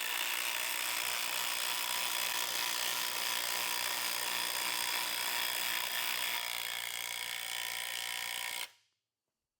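Makita XDT13 and an 809 compact cordless impact driver in a comparison test, a loud continuous whining, hammering drone that runs steadily for several seconds and then cuts off abruptly, with no voices.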